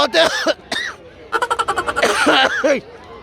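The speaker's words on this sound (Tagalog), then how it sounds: "inuubo na ako" A man coughs at an outdoor carabao race elimination round in Liwayway, Santa Rosa, Nueva Ecija: loud, close, hoarse voiced coughs, including a rapid run of short hacks in the middle, mixed with throaty vocal sounds.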